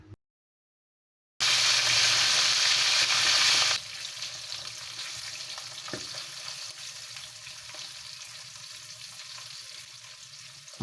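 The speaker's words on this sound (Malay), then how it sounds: "Goreng ikan yang lain pula ya." Chencharu fish fry in hot oil in a pan, a loud burst of crackling sizzle that soon settles into a quieter, steady bubbling fry, close and without talk.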